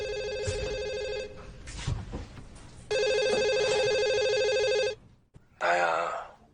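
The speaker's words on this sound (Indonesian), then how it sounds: "Kemudian Jiah mendengar suara telepon dari kamarnya." A telephone rings in a bedroom with loud, sustained electronic ringing in bursts, a long ring, a pause, then another long ring, followed by a brief different tone at the end.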